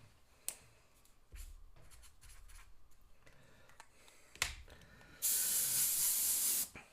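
An airbrush sprays paint in a steady loud hiss lasting about a second and a half near the end, after a stretch of quiet clicks and handling noises.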